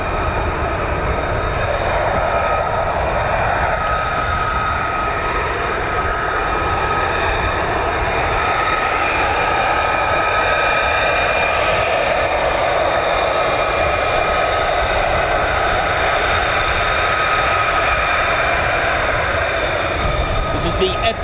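A USAF F-35A fighter jet takes off, its engine a steady, broad, loud roar that holds for the full stretch without letting up, while someone talks over it.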